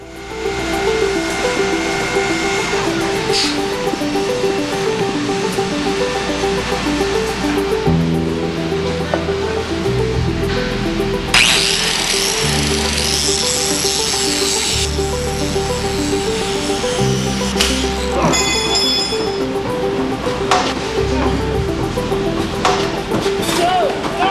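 Power grinder grinding a piece of metal: a loud continuous whine and rush with shifting pitch, a harsher bright burst partway through, and a voice speaking over it.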